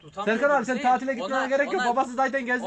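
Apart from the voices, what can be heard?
None of the usual background noises is heard.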